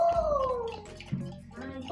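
A spoon stirs sugar into a small amount of water during a preschool experiment about dissolving. It makes a close, swirling watery sound with a thin ringing tone that slides downward, and a faint voice shows up partway through.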